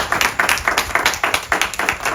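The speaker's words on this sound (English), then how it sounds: "Give him a round of applause." A small group claps for a jury member at a tribal council in an amateur Survivor game, rhythmic individual claps from a few people, close and lively, with no talking.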